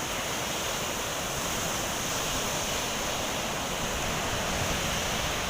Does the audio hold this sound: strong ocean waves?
yes